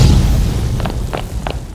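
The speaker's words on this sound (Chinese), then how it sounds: "炸弹超人立马拿出了炸药，这种程度的肯定能炸飞" A dynamite blast goes off in an animated One-Punch Man battle scene, a loud continuous roar and rumble with a few sharp crackling bursts toward the end.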